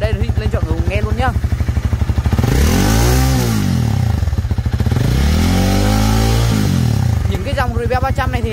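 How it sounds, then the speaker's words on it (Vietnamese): A Honda Rebel 300 motorcycle engine idles with a steady close thumping rhythm, then revs up and down in two rising and falling sweeps before settling back to idle. "Đó, máy nổ rất chi là êm luôn."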